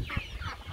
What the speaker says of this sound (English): we have another lot of village chickens that we are just keeping here as home birds